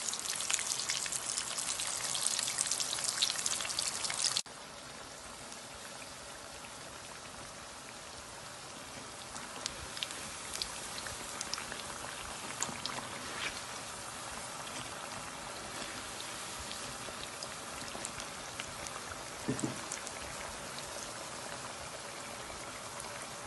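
Samosas fry in hot oil alongside onion pakoras, a dense continuous bubbling crackle close up, louder for the first few seconds and then a steady lighter sizzle with scattered pops, with no talk.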